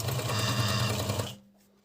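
An Agat DonLock overlocker runs a four-thread seam in a loud, steady mechanical whir for over a second, then stops abruptly, leaving a faint low hum.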